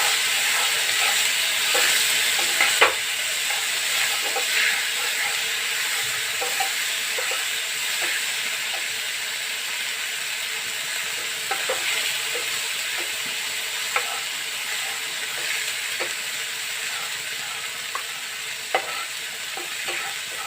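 Chili paste frying with fried onions in a pan for mustard katla fish, a steady loud sizzle and hiss throughout, with occasional small stirring clicks, no talk.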